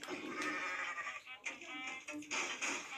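Goat or sheep bleats in Goat Simulator sound in a few wavering cries over a busy background of game noise, fairly faint.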